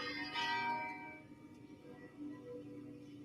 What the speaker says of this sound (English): This is church bells.